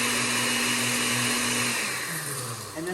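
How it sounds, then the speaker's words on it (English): A blender whirs at high speed on its high setting, a steady loud motor roar with a slight pitch drop near the end, no voices. "on the high setting, we're going to turn the blender on"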